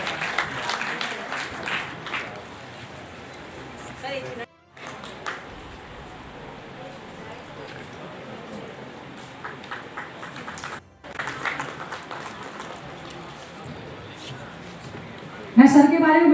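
An audience claps to welcome a guest at an honour ceremony held by a Delhi teachers' forum. The applause runs continuously under someone speaking, with short pauses in between.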